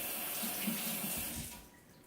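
Tap water runs steadily into a sink as something is rinsed under it, close and clear, then tapers off as the flow is cut.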